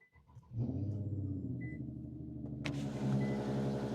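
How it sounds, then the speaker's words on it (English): A car engine cranks and catches after a quiet start, then settles into a steady, fairly loud idle with a low rumbling hum, with a brief rise in revs near the end. "So we're going to start the car and let it get to normal temperature."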